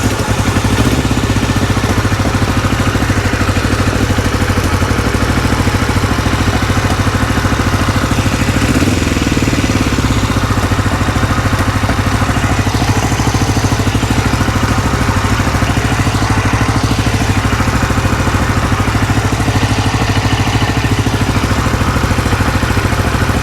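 A Black Bomber motorcycle engine runs steadily and loudly up close, a continuous rough idle with mechanical clatter and no break for the whole stretch.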